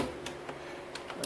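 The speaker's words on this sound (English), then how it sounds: "There we go, click." Several sharp plastic clicks as a part snaps into place on a 2005 Kawasaki Brute Force ATV, spaced irregularly and fairly close, over a steady background hiss.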